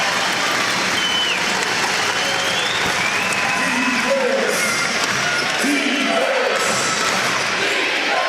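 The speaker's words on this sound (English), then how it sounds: "Crowd giving him a standing O." A basketball crowd at the 2011 Australian NBL Grand Final between the New Zealand Breakers and Cairns Taipans claps in a sustained standing ovation, a dense steady wash of applause under a commentator's voice.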